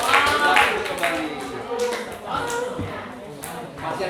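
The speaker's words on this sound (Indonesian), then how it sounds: "Tepuk tangan semua." A classroom of students claps together during a group activity on the respiratory system, a brief burst of hand claps at the start that fades under voices talking.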